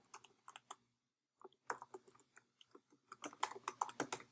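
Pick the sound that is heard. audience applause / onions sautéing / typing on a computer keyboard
typing on a computer keyboard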